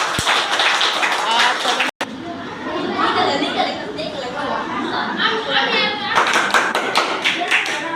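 Classroom of fifth-grade students clapping in scattered bursts as pairs finish a maths task, mixed with busy chatter and desk taps, with a brief dropout before clearer claps return near the end.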